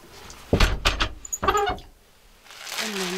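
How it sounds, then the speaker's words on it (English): A flexible magnetic window screen in a converted school bus is pulled down and folded up, giving a few close rustling, snapping sweeps in quick succession, then a pause before a softer scraping slide. "Just pull the magnetic screen down. I can just fold up and go back up in there."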